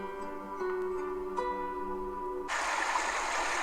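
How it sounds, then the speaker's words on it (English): A sustained tonal drone fades out and gives way to a steady, hissing rush of running water that continues to the end. "Running water."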